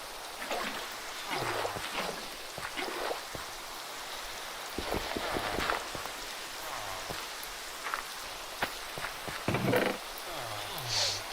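Steady rain falling in Minecraft, a continuous hiss of drops on surfaces running throughout, with brief scattered game sounds and clicks on top.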